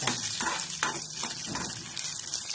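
Red chilli frying in a pan gives a soft sizzle with rhythmic scraping or stirring strokes at a moderate distance.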